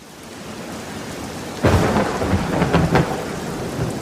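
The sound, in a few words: thunderstorm and heavy rain sound effect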